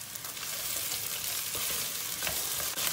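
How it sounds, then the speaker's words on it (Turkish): Tomato paste frying with onions in a pan, a dense continuous sizzle with occasional spatula scrapes as it is stirred, close and steady with no speech. "Domates salçasını iyice bir kavuracağız."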